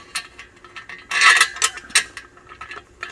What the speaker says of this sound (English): we're going to take this flat plate, we're going to raise this up, have these bolts go through